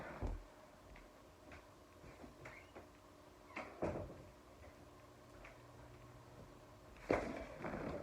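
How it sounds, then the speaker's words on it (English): An indoor door shut near the start of a roller-coaster countdown, heard as a few quiet thumps and clicks of the latch and frame, with a sharper knock later, in an otherwise quiet room with no talking. "Let me shut the door."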